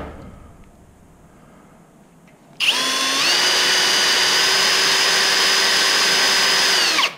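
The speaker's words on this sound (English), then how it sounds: "drilling with just small drill bits like these" Power drill with a small bit boring safety-wire holes through bolts: a sudden high-pitched motor whine starts after a quiet lead-in and holds steady at close range.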